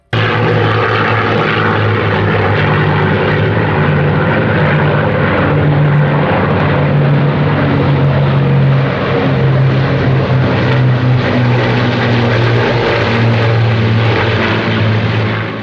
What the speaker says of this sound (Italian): All'inizio è un brontolio, poi diventa un muro di suono. I bombardieri alleati come i B-17 o i Lancaster arrivavano